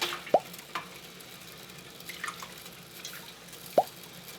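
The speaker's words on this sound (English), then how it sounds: "I'm going to add this to the iron water pot." Wet wool dyed with marigold flowers drops into an iron water dye pot, giving a few separate plops and drips spread over several seconds against a quiet background.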